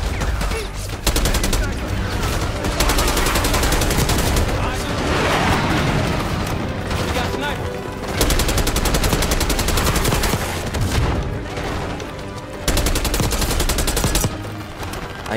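Dense, loud gunfire from Call of Duty Black Ops 6, sustained automatic bursts and booms rolling almost without pause, with someone talking over the shooting.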